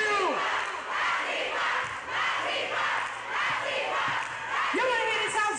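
A big crowd shouts and cheers in loud, rolling waves, voices overlapping and surging repeatedly throughout.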